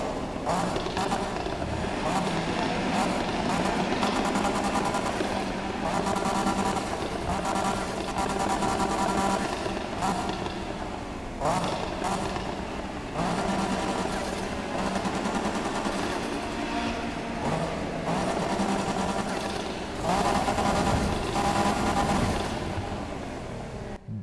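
A high-revving Datsun 240Z engine in the video game Need for Speed (2015) roars steadily throughout, with gear shifts and occasional bursts, loud and continuous with no talking.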